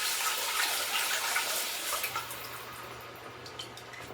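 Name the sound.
chicken broth poured through a fine mesh strainer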